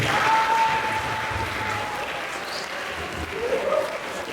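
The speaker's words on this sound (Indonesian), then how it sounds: "Tepuk tangan dulu" Audience at an Islamic boarding school talk show applauds a guest, a continuous dense clapping crowd filling the room, steady throughout with a faint tone and murmur beneath.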